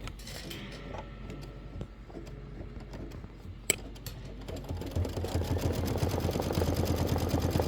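Embroidery machine stitching the decorative outline of a quilt ornament block, a rapid rhythmic mechanical ticking and whirring that starts quiet and grows louder and denser after a sharp click, continuous and close.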